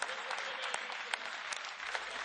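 Applause from an assembly during a State of the Union debate in the European Parliament, a steady broad clatter of many hands clapping throughout, fairly loud and continuous.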